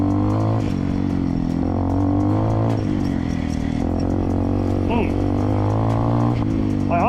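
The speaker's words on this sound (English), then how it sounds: "I am not used to riding bikes this big" A cheap 250cc fuel-injected dirt bike engine labors and revs loudly and close up while riding through mud, its pitch rising and falling in continuous surges with clattering underneath.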